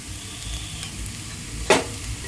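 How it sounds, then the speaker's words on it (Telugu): Pounded garlic and chili powder sizzling in a pan of bitter gourd curry, a steady close frying hiss with one sharp scrape or clink of a spoon near the end. "చూడండి వెల్లుల్లిపాయలు కారం వేస్తున్నాను."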